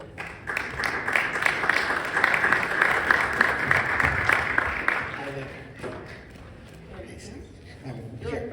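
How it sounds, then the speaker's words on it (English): Audience applause greets a speaker walking onto a stage at a talk, dense clapping for about five seconds before it thins out into scattered claps and murmured voices. "So please welcome him in a huge round of applause."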